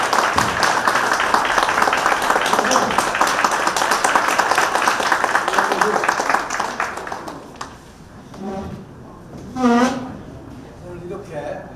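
A crowd claps in loud, sustained applause at a book launch event, then the clapping thins out as a voice comes in over it.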